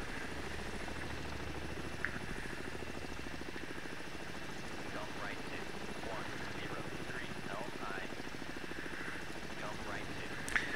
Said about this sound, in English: The aircraft are just relentless.